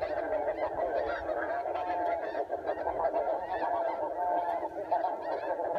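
Geese honk steadily in a dense, continuous chorus throughout, heard during a goose hunt with a flock turning overhead; the calls are loud and overlapping, with no talking.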